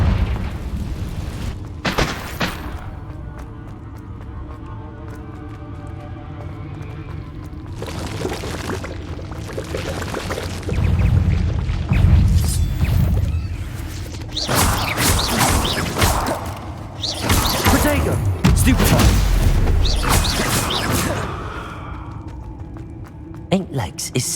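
Confringo fire spell explosions in the video game Hogwarts Legacy: several heavy booming blasts, spaced over the stretch, rise above a busy bed of rumbling and crackling game sound.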